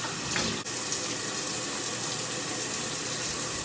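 Shower water runs steadily while a hair mask is rinsed out, a loud close hiss with a brief splash near the start and no talking.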